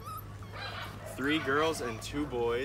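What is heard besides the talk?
puppies whimpering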